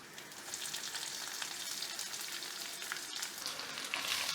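Crushed small shallots sizzle steadily in hot oil in a pan for a squid stir fry, a continuous close crackling fry without talk.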